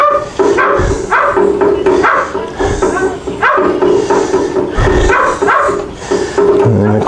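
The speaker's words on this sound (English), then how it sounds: "And of course our dog wants to come out." A dog shut indoors barks repeatedly and loudly, wanting to come outside to join its owner, in a steady run of close, insistent barks and yips.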